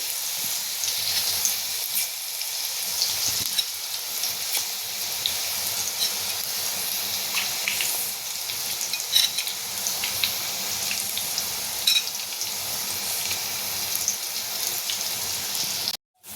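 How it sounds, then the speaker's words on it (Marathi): Bhaji fritters of vada pav batter deep-frying in hot oil, a steady bright crackling sizzle heard close and alone, continuing evenly before cutting off at the end. "आता मी ह्या तेलामध्ये ब्राऊन करून घेतेय"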